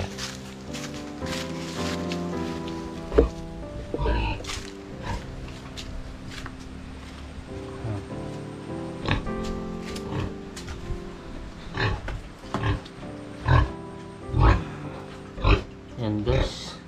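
A pig on a rural farm gives grunts and oinks under steady music, with rustling and footsteps and a voice talking throughout.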